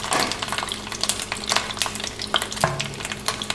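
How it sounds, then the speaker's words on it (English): Tomato paste browning in olive oil in a pan, with a steady close sizzle and frying crackle under the scrape of a utensil stirring it around, and no talking. "all I'm doing is kind of browning or cooking my tomato paste"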